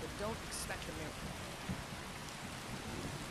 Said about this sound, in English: Yeah, look at the rain.